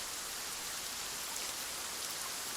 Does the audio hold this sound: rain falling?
yes